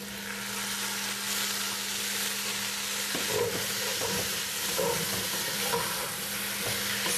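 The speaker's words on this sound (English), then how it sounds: "Right after you add the garlic, stir it 2 or 3 times." Garlic and jalapeño sizzle in a soup pot for spicy Mexican potato soup, a steady frying hiss broken by several scraping stirs near the middle and end, with no talking.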